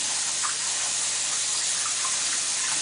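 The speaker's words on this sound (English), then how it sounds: "So I'm going to fill this bowl up with cold filtered water." Cold filtered water runs from a tap into a bowl in a kitchen, a steady hissing, gushing stream at close range that holds evenly throughout, with no voices.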